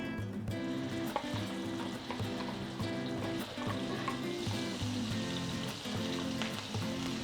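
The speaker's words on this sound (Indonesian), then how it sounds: "Nah, kita tumis sampai dengan bumbu halusnya wangi" Ground spice paste sautés in hot oil in a pan for a tilapia dish, giving a steady, close sizzle with occasional stirring, while faint tonal background music plays and no one speaks.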